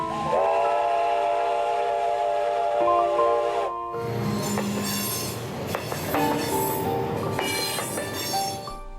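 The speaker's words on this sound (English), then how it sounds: "The sound of a locomotive whistle echoes through the hills." A locomotive whistle sounds loudly for several seconds, echoing through hills, then gives way to rumbling rail cars with squealing wheels and clanking metal.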